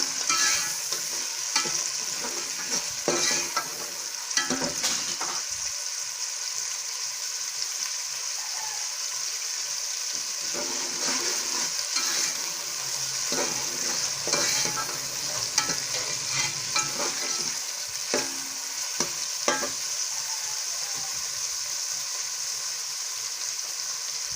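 Round gourd (tinda) pieces frying in a pan with peas for a mixed vegetable dish: a loud, constant hiss of oil with intermittent scraping and stirring, close up and without voices.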